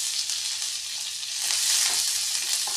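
Green chillies and curry leaves hit hot oil, making a loud, continuous sizzle that swells slightly midway and stays close and steady throughout.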